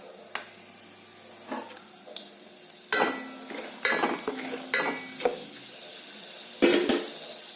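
Peanuts drop into a hot pan while masala oats are cooked, giving quiet scattered sizzles, sharp pops and clicks, and a few scraping stirs, with no talk.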